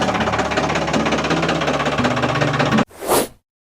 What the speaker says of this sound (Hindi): अब लेके आते हैं ट्रैक्टर ट्राली